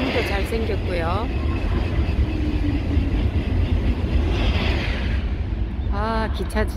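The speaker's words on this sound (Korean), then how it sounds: "아, 기차 지나가는 소리." A train rumbles past outside a pine-tree grower's home, a steady broad roar lasting several seconds, with brief voices talking near the start and end.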